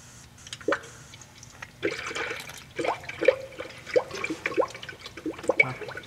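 A car cooling system bleeder valve hisses and gurgles as trapped air and coolant escape, with irregular sputtering spurts and bubbling that grow busier over several seconds, close to the microphone.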